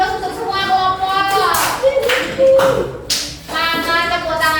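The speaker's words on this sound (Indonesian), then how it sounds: "kita beri aplaus untuk semua kelompok" Children in a classroom clapping for all the groups, bursts of quick hand taps mixed with lively kids' voices and shouting over the clapping.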